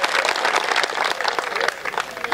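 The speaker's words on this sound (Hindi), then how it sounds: "तालियां कमजोर है आप लोगों की यार" Live audience at a stage comedy show clapping in a dense, uneven burst of applause throughout, close and fairly loud, with a voice faintly mixed in.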